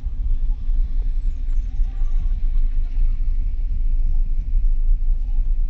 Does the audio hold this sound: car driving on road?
yes